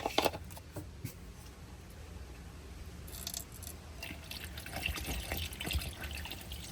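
Abro engine coolant, ready to use and without antifreeze, trickles and gurgles softly into a car radiator. The pour is faint and uneven, with small splashes and liquid bubbling near the filler neck.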